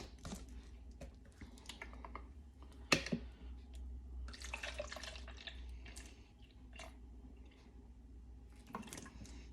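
Milk poured into a shaker cup for a morning protein shake, a quiet, soft liquid trickle with a few small splashes and light clinks, close and faint against a low background hum.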